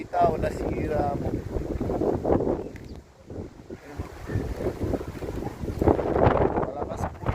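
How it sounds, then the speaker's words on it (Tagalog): Strong typhoon wind in Taiwan roars and buffets the microphone, rising and falling in heavy gusts with rumbling noise throughout. "Malakas po yung hangin, sobrang lakas ng hangin"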